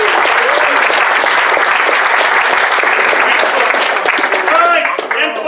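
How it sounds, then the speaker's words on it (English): A convention panel audience claps loudly for a full stretch, a thick, close roar of hands with scattered voices mixed in, thinning slightly near the end as cheers rise. "let's give them all a huge round of applause"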